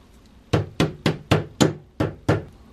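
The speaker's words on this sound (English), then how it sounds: "Now I'm just going to keep bending it over with the hammer." Seven sharp hammer blows on sheet metal, bending over its edge, evenly spaced and ringing briefly, struck close by with no talking.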